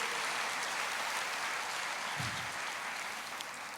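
A congregation at a church sermon applauds in a sustained, fairly faint wash of clapping, with a brief low thud partway through.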